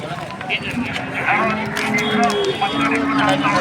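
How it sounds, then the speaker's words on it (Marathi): A black-and-white calf lets out a low, drawn-out moo amid the busy chatter and bustle of the crowded Vadgaon livestock market in Kolhapur district. "हे बघा काळं पांढरं वासरू आहे"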